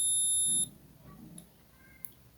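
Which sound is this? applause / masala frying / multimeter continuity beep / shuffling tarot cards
multimeter continuity beep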